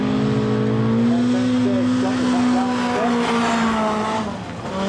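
Four-cylinder sedans race at Kingaroy Speedway, engines droning loud and steady at sustained high revs with a slight rise and fall, tires hissing, as a commentator calls the race over the top.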